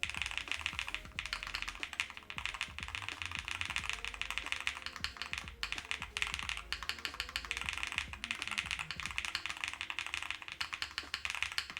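Rapid, continuous typing on a keyboard fitted with Hall effect switches, a dense run of clacky keystrokes with no pauses.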